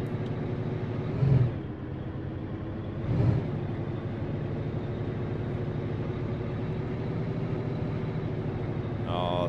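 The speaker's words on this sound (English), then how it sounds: "Dude, that sounds good for the V92 man." A Brockway truck with a V92 engine in a driving video game runs with a continuous rumbling drone, with two brief swells in engine note early on.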